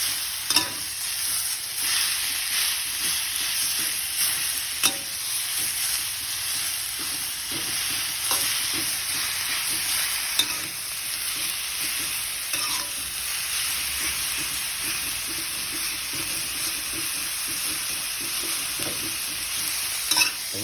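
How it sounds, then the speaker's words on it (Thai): Minced pork is stir-fried in a pan with chili and garlic over low heat, giving a steady, even sizzle. Occasional scraping stirs sound through the sizzle, with no talking. "เราก็จะผัดไปสักพักหนึ่งนะครับ"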